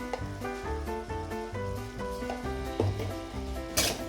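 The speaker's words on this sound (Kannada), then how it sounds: "ಎಣ್ಣೆಯಲ್ಲೇ ಚೆನ್ನಾಗಿ ಬೇಯಬೇಕು ಚೆನ್ನಾಗಿ ಹುಡ್ಕೊಳ್ಳಿ ಎಣ್ಣೆ ಇದ್ರಲ್ಲೇ ನೋಡಿ ಈ ಥರ ಚೆನ್ನಾಗಿ ಫ್ರೈ ಆಗಬೇಕು" Chicken liver frying in oil with turmeric, a soft steady sizzle beneath a prominent melodic background tune, with a brief louder scrape near the end.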